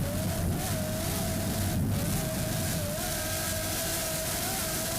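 Racing powerboat Reverie running two 920 hp Lamborghini engines, a loud, steady engine drone with a sustained droning tone and a brief surge partway through, no voices.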